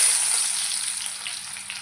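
Onions go into hot oil in a pan, producing a bright, steady, close frying hiss that holds evenly without pause.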